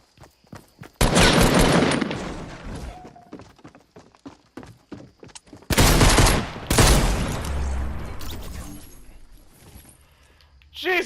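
Gunfire in the Fortnite video game, a rapid rattling burst of shots followed by another loud, dense volley with booming impacts, with quieter clicks and thumps between them.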